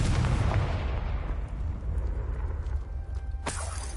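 A booming blast from the Confringo blasting spell, a heavy explosive rumble that fades into a decaying roar, followed by a sharp secondary crack near the end.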